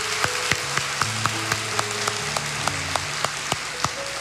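A church congregation claps steadily for a student brass band, a dense spread of applause with regular beats, while sustained instrument tones linger underneath.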